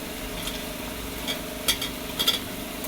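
Tomatoes frying in a pan with ginger-garlic paste for chicken biryani, a faint soft sizzle with a few light stirring clicks near the end.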